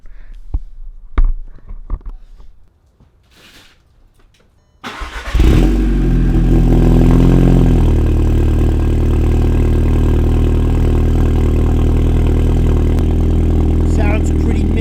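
A 2013 Audi TTS (MK2 TTS Quattro) with a catless downpipe starts up after a few quiet seconds of shuffling, then settles into a loud, steady, raspy idle with a slight burble.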